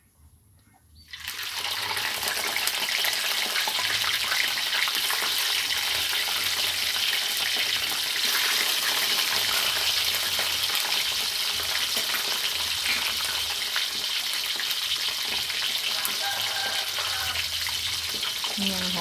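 Fish full of roe frying in hot oil, a loud, steady crackling sizzle that starts after a brief quiet moment and continues without pause, with faint sounds of stirring underneath.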